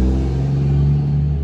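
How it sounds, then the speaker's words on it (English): A noisy diesel truck passes close by with a loud, steady low engine rumble and drone that holds throughout the short stretch, no voices over it. "because everybody's got to drive noisy freaking diesel trucks around here."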